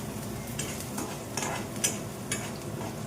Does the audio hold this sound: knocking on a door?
no